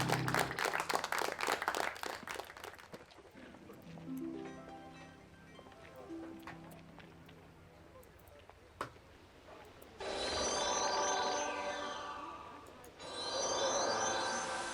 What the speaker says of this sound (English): Here, have some applause. Which hopefully plays. There we go.